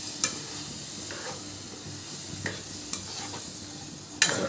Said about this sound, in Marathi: त्याच्यानंतर आपण लगे अजून परतून घ्यायचं ह्याला